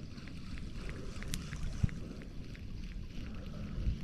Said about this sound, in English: A little bit of a breeze, little, little tough to cast against the wind